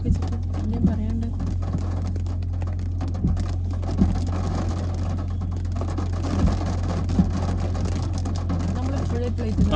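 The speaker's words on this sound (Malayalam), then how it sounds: "നല്ല മഴ പെയ്യുന്നുണ്ട്." Heavy rain falls in the Gulf in a dense, steady wash, with occasional louder knocks, a low constant hum beneath and people talking over it.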